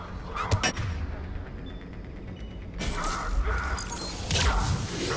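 Gunfire and mechanical clatter in the Mass Effect 3 video game, sharp cracks near the start and a rougher, denser burst of impacts later over a steady noisy background.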